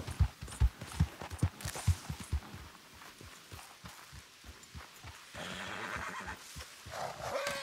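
A horse in Red Dead Redemption 2 neighs and whinnies repeatedly over several seconds, with hoofbeats clopping in a rhythmic series up front, followed by a broader noisy stretch of movement.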